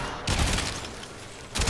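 Rapid bursts of Zenith rifle gunfire in the video game Warframe, a loud dense volley at the start and another burst at the end, with no voices.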